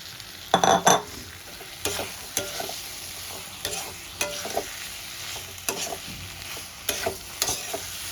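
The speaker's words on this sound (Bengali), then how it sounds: "এবার আমি ভেজে রাখা আলুগুলো দিয়ে মশলার সঙ্গে কষাতে থাকবো" Pre-fried potatoes being stirred into a spice masala in a pan for Kashmiri aloo dum: a soft sizzle broken by repeated sharp scrapes and clatters of a spatula against the pan, close up and without voices.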